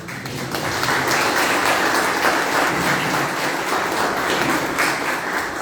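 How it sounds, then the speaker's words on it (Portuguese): Audience applause after an evening talk on the Beatitudes at a Christian gathering, a dense, steady clapping that starts quickly and holds evenly throughout at fairly loud level. "esses aplausos são para Jesus"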